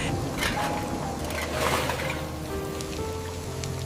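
Steady rain pattering on a surface, dense and continuous with a few louder drips standing out, no voices.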